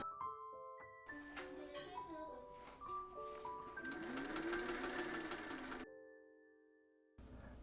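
Sewing machine stitching a ring of elastic into a dress sleeve hem, its rapid motor whir starting and stopping in short bursts with a steady run near the middle, close and fairly loud, with no talk.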